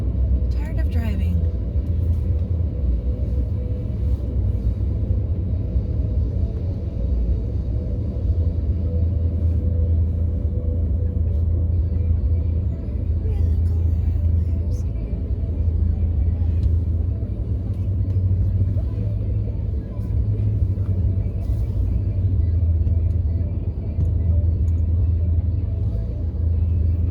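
Inside a moving car, a steady, loud, low road rumble and engine drone carries on throughout with no breaks, while a person talks now and then over it.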